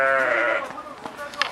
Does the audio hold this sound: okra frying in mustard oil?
no